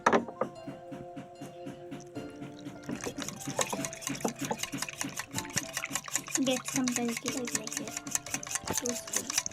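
Flour and egg batter being mixed with water in a bowl, a steady close rhythmic stirring and tapping that runs throughout with a faint liquid slosh.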